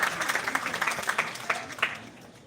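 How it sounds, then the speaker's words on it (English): Audience applause at a live reaction show: a crowd claps steadily for a couple of seconds, with light chatter mixed underneath. "Let's give a round of applause."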